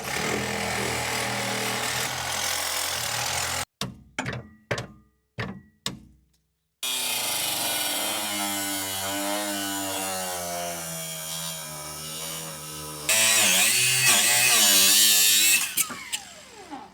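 A Milwaukee battery grinder, used in a coilover and CV shaft job, whines loudly then cuts out in a run of short stuttering bursts and gaps before spinning up again and grinding steadily.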